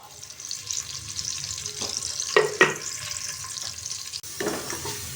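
Roughly chopped onion frying in a cup of vegetable oil for haleem, a low steady sizzle with occasional stirring scrapes and brief splashy clatters, fairly quiet and without speech.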